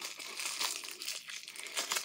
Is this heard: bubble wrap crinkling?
yes